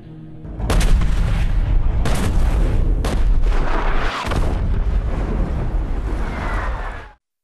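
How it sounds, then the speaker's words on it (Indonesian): Artillery shelling enemy positions in a war film, with repeated loud booming blasts over a dense rumbling roar that continues for several seconds before cutting off. "meminta pasukan artileri untuk menembak mereka dari kejauhan"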